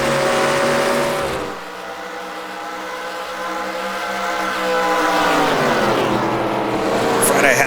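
Race car engine in the NASCAR Legends game with a 1968 mod, loud and near, dropping as it shifts down a gear, then climbing again in a rising rev while other cars roar around it.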